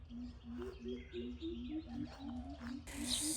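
Birds sing in a community garden, one voice repeating a bright rhythmic phrase in quick, even notes nearby, with other soft chirps around it and no talk.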